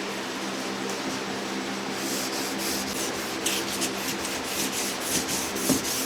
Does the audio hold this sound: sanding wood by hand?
yes